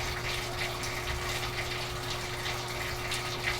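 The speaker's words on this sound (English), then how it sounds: "now it leaks hot water" A leaking hot water tap runs steadily, a continuous faint hiss of flowing water over a constant low mechanical hum.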